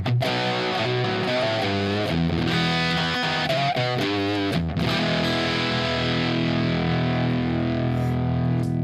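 Electric guitar played through a Zeo clean booster into a pushed EF86 tube amp, giving a loud, distorted tone with strummed chords and single notes that ring out and sustain toward the end.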